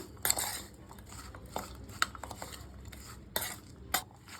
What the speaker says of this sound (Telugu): ఆమ్లెట్కి ఇలా అన్నీ బాగా మిక్స్ అయ్యేటట్టు మిక్స్ చేసేసుకున్నాము